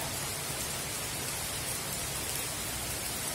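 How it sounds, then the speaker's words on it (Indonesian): Steady rain falls on a quiet, empty small alley, a dense uniform hiss with no distinct drops standing out, continuous throughout. "ini baru datang hujan"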